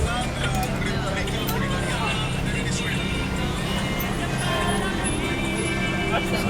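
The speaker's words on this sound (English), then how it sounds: "There's a lot of traffic out here." Busy street traffic in downtown Lima near the Plaza de Armas, a constant roar of car and bus engines close by with passing vehicles, under a layer of crowd chatter and nearby talk.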